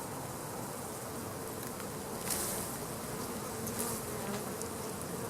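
A dense swarm of honey bees drones steadily around an opened hive during first-year honey extraction, a continuous close buzz filling the air with a few louder swells as individual bees pass near.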